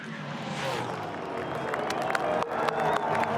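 Spectators at the Bathurst 1000 make a broad, steady roar of cheering and applause during the final lap. It swells slightly, and a sharp burst lands near the end under a commentator's voice.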